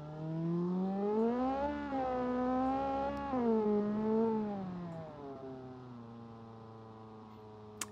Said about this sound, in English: I hate how slow it revs.